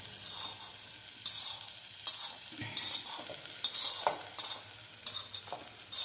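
Moth bean sprouts scraped and stirred in a hot pan, with steady sizzling broken by repeated sharp clinks and scrapes of a spoon against metal, close and fairly loud.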